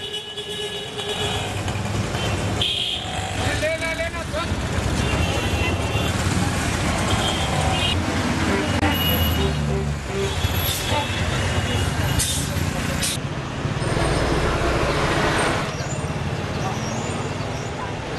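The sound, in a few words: heavy road traffic in India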